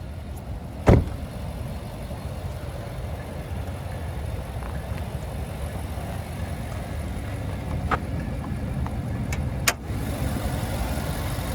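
A 2021 Nissan Armada's 5.6-liter V8 idles steadily under the open hood, a low continuous rumble heard close up with a couple of brief sharp clicks along the way.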